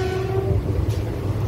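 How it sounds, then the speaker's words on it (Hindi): A train passes close to a railway station with a loud, continuous low rumble. A steady horn tone sounds during the first half-second and then drops away under the rolling roar. "स्टेशन के पास से ट्रेन अभी गुजरा है सियाता रेलवे स्टेशन से"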